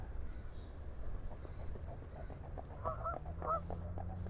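A few goose honks from a flock of about 100 geese just landed on a lake ring out over a steady low rumble of background noise, moderately distant, in short calls near the end.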